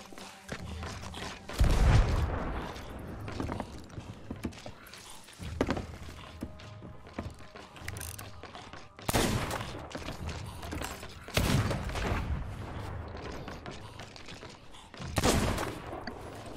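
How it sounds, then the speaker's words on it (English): Video game cannons fire in repeated loud booming blasts at sea, spaced several seconds apart, with quieter rumbling and crackling between the volleys. "Cannons shooting at me."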